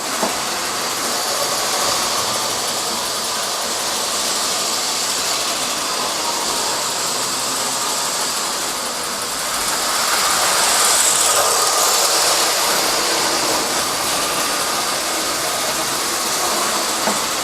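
A steady mechanical engine rumble with hissing steam from a smoking model steam train, continuous and fairly loud, swelling slightly midway as it labours uphill.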